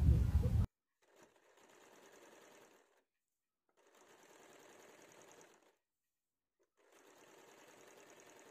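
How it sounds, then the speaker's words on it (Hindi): A sewing machine stitches a saree lehenga in three separate runs of steady whirring, each lasting about two seconds with quiet pauses between them, after a brief louder sound at the very start. "यहाँ पे देखिए ऊपर की तरफ से मैं और एक सिलाई लगाऊंगी"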